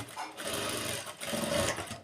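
An electric sewing machine runs a steady, continuous stitch across a tailored ticket pocket, whirring close and loud for about two seconds with one brief dip mid-run.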